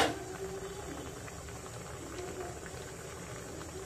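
Orange-spotted grouper fish curry simmering in a pot over medium heat, a faint, steady low bubbling hiss with no distinct events.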